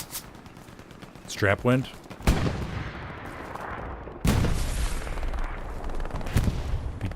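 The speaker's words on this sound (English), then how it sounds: "Elmo laying down some suppressive fire." Suppressive gunfire in a World War II console war game: loud, close bursts of rapid shots cracking out, one of them machine-gun fire, with a brief voice speaking just before.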